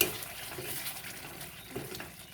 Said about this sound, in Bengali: গরম মশলা দিয়ে একটু নেড়ে দেবো